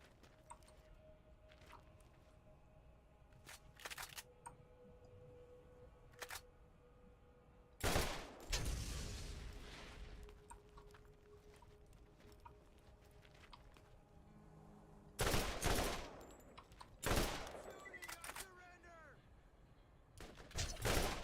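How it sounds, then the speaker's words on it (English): Bursts of gunfire from the video game Borderlands, several sharp volleys at intervals amid quieter stretches, with broadband crackle and faint background game tones. "Stop shooting, I surrender. Followed by getting shot at."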